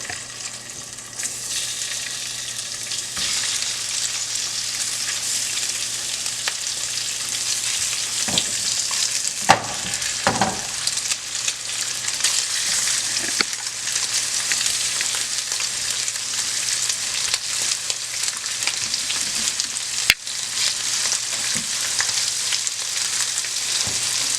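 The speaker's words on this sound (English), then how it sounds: "So I have some butter that's melted, and I'm going to put my sausage in here." Sausage sizzles steadily in melted butter in a pan on a stovetop, a dense continuous crackle and spit with a couple of louder pops, close and unbroken, with no talking.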